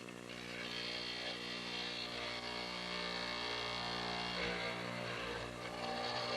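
A mortising machine cuts mortises into a wood blank for a Lutyens bench, giving a faint, steady motor whine with a rough cutting buzz and no talking.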